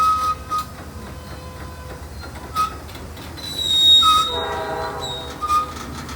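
Freight train with four locomotives switching cars in a rail yard, heard from a distance: a steady rumble with brief horn-like tones and a stretch of metallic wheel squeal, no talking.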